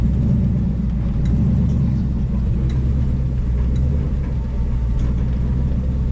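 A car with a custom-built exhaust is driven on a lap over a rough field, giving a continuous loud, low engine rumble that holds steady throughout, close up and with no talk.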